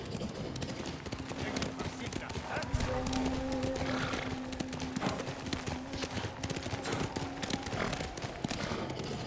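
Steady clip-clop of horse hooves in the video game Ghost of Tsushima runs throughout, fairly close, with scattered clatter and a faint tonal hum in the background.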